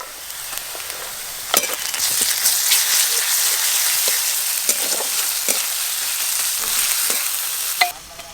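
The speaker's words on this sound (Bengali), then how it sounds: "পেঁয়াজ একটু ভাজা ভাজা হয়ে গেছে এবার আদা রসুন বাটা দেব" Sliced onions sizzle steadily in hot oil in a pan while cooking for chicken mughlai paratha, a dense, continuous crackle broken by a few sharp scrapes of stirring before it cuts off near the end.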